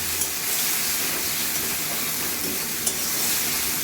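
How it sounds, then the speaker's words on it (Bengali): Kashmiri chilli spice paste frying in a pan for egg curry, a dense continuous hiss and sizzle with occasional faint stirring knocks, close and fairly loud. "এবার এটা মশলাটা ভালোভাবে কষিয়ে নিতে হবে"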